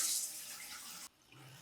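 Water runs into a toilet tank refilling after a flush, a bright hissing rush that tapers off, then cuts to a quieter, low trickle.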